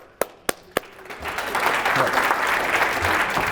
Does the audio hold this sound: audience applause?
yes